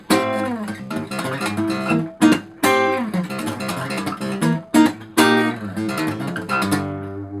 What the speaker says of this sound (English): bass line, hammer-on, poppy, triplety stuff.